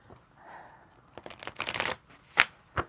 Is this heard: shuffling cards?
yes